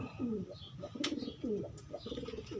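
Breeder pigeons coo in a steady series of low, rolling calls close by, with a few faint chirps mixed in over a soft outdoor background.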